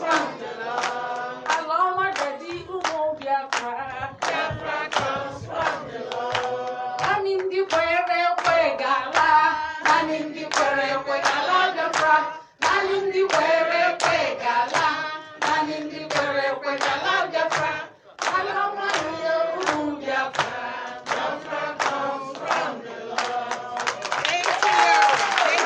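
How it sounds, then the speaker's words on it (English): Crowd clapping hands in a steady rhythm at an outdoor awareness-day gathering, close and loud, mixed with chanting or singing voices throughout and a couple of short pauses along the way. "let us give hands of applause to the little set"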